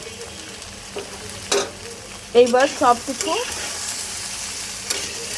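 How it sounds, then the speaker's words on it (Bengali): Spices sizzle and crackle in a hot pan with a metal utensil stirring, and someone speaks briefly over the frying. "সব কিছু সুন্দর করে একটু ভাজা ভাজা করব"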